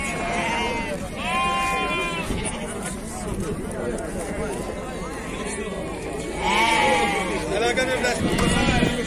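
Lambs and sheep bleat at a busy livestock market in Beyləqan, with several loud, wavering calls rising now and then over constant nearby chatter between traders and buyers.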